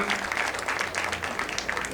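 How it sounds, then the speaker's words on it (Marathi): Audience at a Bapat family clan gathering breaks into steady, dense applause, a continuous wash of many hands clapping at moderate volume for the whole stretch with no voices on top. "टाळ्यांचा मोठा कडकडाट होऊ द्या सगळ्या बापट कुटुंबियांसाठी"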